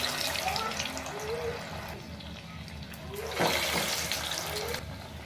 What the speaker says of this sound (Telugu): ఇప్పుడు ఇంత గారెలు వేసుకుంటున్నాను.